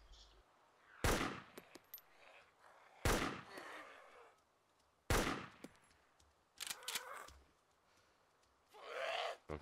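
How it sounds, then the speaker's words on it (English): Gunfire in the survival video game DayZ, several loud sharp bursts spaced a couple of seconds apart, each with a ringing tail, followed by a longer noisy burst near the end. "Oh, they're firing."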